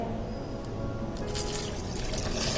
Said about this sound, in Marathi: आता आपण यामध्ये पाणी घालूया